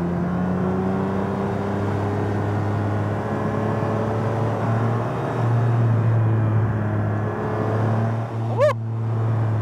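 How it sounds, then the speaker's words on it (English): 1999 Ferrari 550M V12 engine pulling steadily at about 4,000 rpm, heard from inside the cabin while driving, a smooth sustained drone with rising pitch and a brief sharp sweep near the end. "Listen to that V12."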